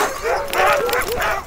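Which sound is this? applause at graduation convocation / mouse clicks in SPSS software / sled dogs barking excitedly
sled dogs barking excitedly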